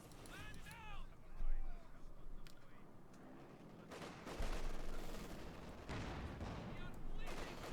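Heavy gunfire and explosions in the video game Company of Heroes 2, with Panzer IV tanks and Grenadiers near a roundabout: repeated distant bursts and booms over a steady battle bed, with a voice talking over it.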